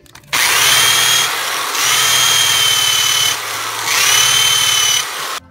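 A power drill whines loudly and close, drilling a hole in a vehicle firewall in steady bursts with brief dips in speed between them, no voices.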